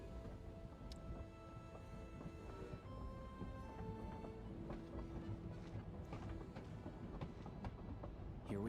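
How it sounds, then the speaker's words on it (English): Train station ambience in a video game: a low, continuous rumble with steady tonal hums and rolling rail clatter, faint and distant, holding evenly throughout. "Welcome to Snezhnograd train station, the biggest transport hub in the nation"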